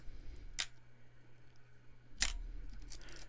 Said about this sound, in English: The first thing is you're going to check the shutter speeds, okay? We're going to start with B.